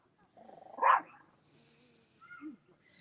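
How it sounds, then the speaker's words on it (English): A single short dog bark at other dogs walking down the street, fairly faint and somewhat distant, followed by a softer yip against a quiet background. "there's other dogs walking down the street, so she's barking"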